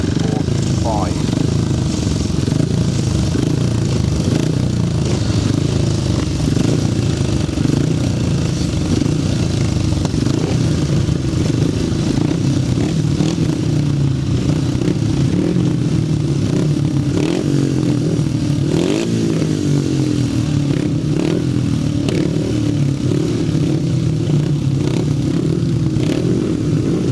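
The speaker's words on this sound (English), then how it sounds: "going ahead then for race number 28, which is another heat of the 500 sidecars" 500cc grasstrack racing sidecar motorcycles roaring through a heat at a meeting, a continuous loud engine drone with rising and falling revs and clattering scrapes, steady throughout under an announcer's commentary.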